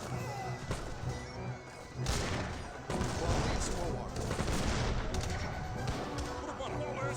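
Heavy cannon fire in an Age of Empires 3 battle, a dense barrage of booming shots and crashing impacts layered over continuous battle noise, loud and sustained, with no talk.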